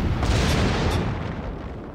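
Naval gunfire from the cruiser Omaha in World of Warships, a single heavy booming blast that opens loud and close, then its deep rumble slowly fades over the following moments.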